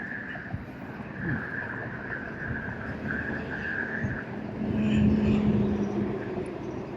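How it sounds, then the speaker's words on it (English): Road traffic passes nearby in a continuous rumbling wash that rises toward the end as a louder vehicle goes by, with a faint steady whine running through it and no talk. "Waiting for the traffic."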